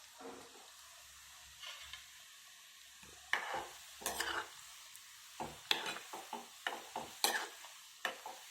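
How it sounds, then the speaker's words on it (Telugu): Gulab jamun dough balls fry in hot oil in a pan, with soft sizzling under irregular stirring scrapes and clinks that grow busier toward the end. "ఇవి కూడా బాగా వేగాలి."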